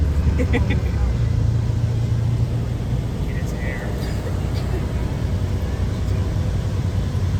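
Bus ride at Magic Kingdom, Walt Disney World: a continuous loud engine and road rumble with steady broadband noise throughout, with people talking underneath.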